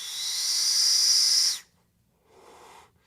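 A high, airy whistling hiss from a vape tank coil sounds for about a second and a half, cuts off, then returns more faintly in a shorter burst.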